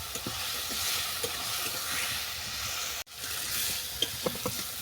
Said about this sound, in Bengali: এই সব মশলা আমি ভালো করে কষিয়ে নেব।